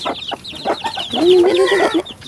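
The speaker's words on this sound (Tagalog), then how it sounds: "Ito yung may sisiw na manok." A mother hen with her chicks clucks in quick, close, fairly loud bursts while being fed, rising into a longer drawn-out call, with thin high chick peeps running underneath.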